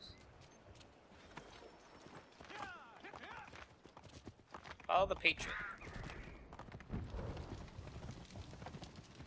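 A horse's hooves clip-clop at a quick pace in Assassin's Creed 3 while people talk over them, with scattered clatter and bursts of noise in the background.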